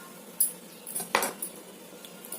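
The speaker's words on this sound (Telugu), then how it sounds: "ఆనియన్స్ అయితే ఇలా కట్ చేసుకోండి" A knife chops onions, giving a few sharp, quiet clicks and taps against the cutting board with short pauses between cuts; no one speaks.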